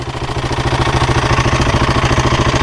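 A Husqvarna 701 motorcycle engine idles close by with a fast, steady mechanical clatter from a worn timing chain, loud and continuous with no voices.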